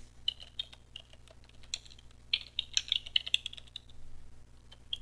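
Fingers tap out text on a computer keyboard, a quiet run of uneven clicks and key presses in short bursts, close by and with no talking.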